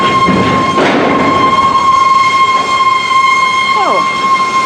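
Rail cars rolling through Denver North yard, including TTX cars, give off high metallic squeals and steady ringing tones over a continuous rumble, with a sharp sliding squeal near the end.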